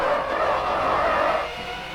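A racing car in a video game brakes hard into a left-hand corner, with the engine roar dropping and a tyre skid smearing across a steady, fairly loud track sound before easing off near the end.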